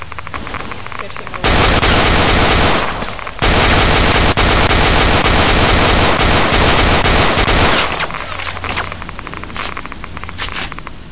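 Rapid automatic gunfire in a first-person shooter video game, loud dense bursts of shots lasting several seconds with brief pauses, then a quieter stretch with scattered shots.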